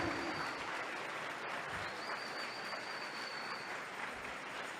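Congregation applauding in a Spanish-language church service, a steady, distant-sounding roar of clapping that holds evenly throughout.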